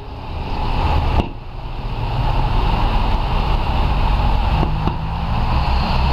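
A Suzuki Grand Vitara 2.0 running on LPG starts and idles with a steady, loud engine drone, with a sharp click near the start.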